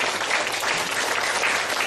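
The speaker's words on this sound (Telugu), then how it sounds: "కనుక ఒకసారి చప్పట్లు కొడతాం." An audience claps together in a dense, sustained burst of applause that stays loud and even from start to finish.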